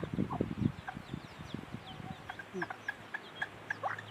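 A bantam hen with her young chicks clucks softly and repeatedly while the chicks give high, short peeps throughout, close by, with faint human talk in the background.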